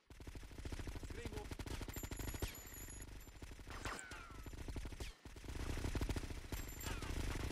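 Rapid automatic gunfire in GTA: Vice City, played with a nightmare mod: long continuous bursts from an MP5 or M4, close and steady, with brief pauses and a few chimes and effects layered on top.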